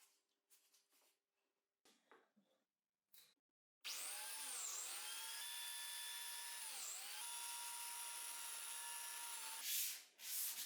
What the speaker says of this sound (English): Now that it's easier, I'll sand down the inner sides of the cabinets.